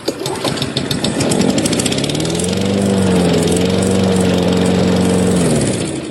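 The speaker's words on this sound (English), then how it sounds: "as long as the lawnmower's not too loud" A lawn mower engine starts with a rough sputter, then settles into a steady, loud, close droning run with a rising and falling tonal whine for several seconds before easing off, with no talking.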